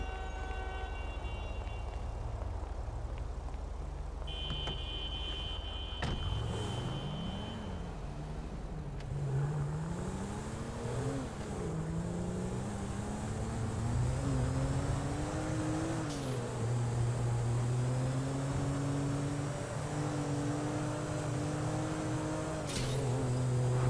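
A personal car arriving in a video game, its engine revving up and down through several surges and holding a steady drone, loud and close throughout with no voices.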